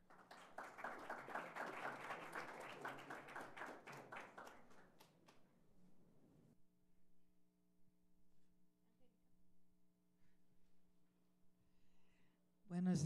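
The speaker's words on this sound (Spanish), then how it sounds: "La recibimos con un fuerte aplauso." A conference audience greets a speaker with a burst of brisk clapping that thins and stops after about six seconds, leaving a quiet room with faint hum before a voice begins.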